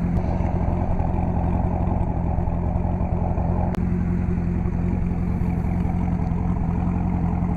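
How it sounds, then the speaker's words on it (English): A 2007 Chevrolet Corvette Z06 V8 with a Borla performance exhaust idles with a deep, steady, throbbing burble, close and continuous, with one sharp click midway. "This vehicle does have the high performance Borla exhaust."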